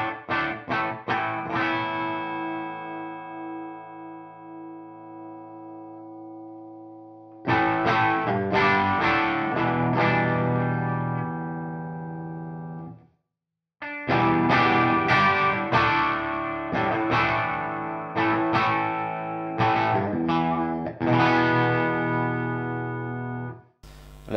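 Electric guitar through a GGD Zilla amp plugin with room sound added, played as distorted chords in bursts separated by short pauses, with ringing sustain and no voices.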